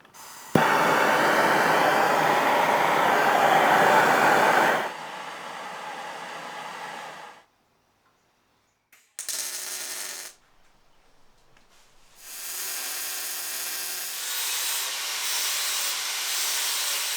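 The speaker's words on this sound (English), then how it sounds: "I'm gonna go ahead and use the torch to soften up these corners" A torch roars steadily while heating steel corners on a forklift before bending, loud for several seconds, then quieter, cutting out, and flaring again in shorter and longer bursts.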